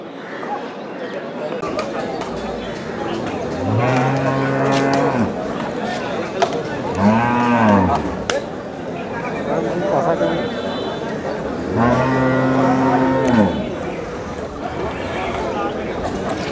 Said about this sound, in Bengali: দর্শক এখানে একটি শাইওয়াল ষাঁড় আমরা দেখছি